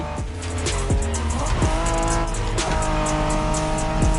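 Honda NSX in The Crew Motorfest racing game, its engine revving loudly with rapid gear-shift dips and brief tire squeals, heard up close over continuous game audio.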